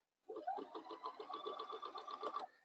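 A sewing machine runs a zigzag basting stitch along the inside edges of a rectangle holding a hook and bar on a tutu, a steady, close, continuous rapid stitching whir for about two seconds with no talk.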